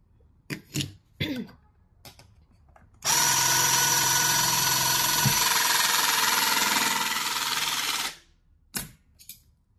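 A Questok riveting system joining sheet metal: a few short mechanical clicks and thumps, then one loud, steady high-pitched whine of about five seconds, followed by more brief clanks.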